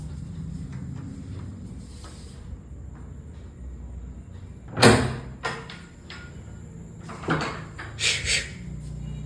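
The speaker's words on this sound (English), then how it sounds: "I need to open the door, otherwise she cannot leave" A door is opened indoors, with a sharp clunk and rattle near the middle and a few more knocks and scrapes afterwards, all set against a low steady background hum.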